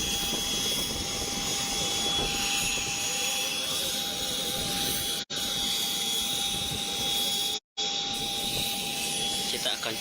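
Aircraft engine running at an airport while a patient is moved from an ambulance onto a plane bound for Jakarta, a steady loud roar with a high whine, briefly cut out twice.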